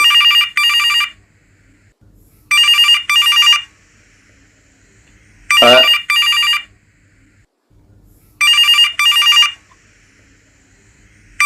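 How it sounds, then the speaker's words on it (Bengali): A telephone rings in regular double bursts, four rings spaced a couple of seconds apart, loud and close, with a brief thump during the third. "একটা ফোন চলে এসছে"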